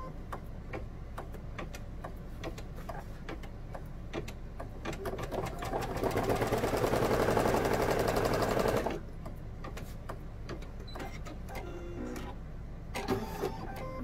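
An embroidery machine runs a stitching step on a zippered project with a fast, steady mechanical clatter and ticking. The noise grows louder and denser for a few seconds midway, then returns to the lighter rhythm.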